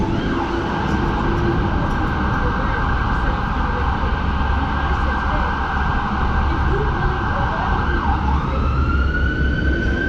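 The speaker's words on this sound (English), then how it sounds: "Yep, ambulance." An ambulance siren wails steadily over loud, dense downtown traffic noise at Dundas Square, its tone shifting near the end as the ambulance passes close by.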